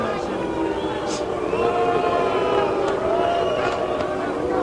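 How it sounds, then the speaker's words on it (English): Boxing arena crowd at Madison Square Garden in 1964 voicing dissatisfaction, a sustained murmur of boos and calls under a ringside announcer's voice. "Now the crowd is voicing some dissatisfaction with the performance."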